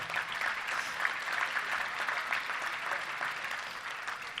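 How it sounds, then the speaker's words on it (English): An audience at a Little Rock Touchdown Club meeting applauds its sponsors, a steady moderate clapping that runs evenly for several seconds with no talk over it. "Let's give a big round of applause for all of our sponsors, if you will."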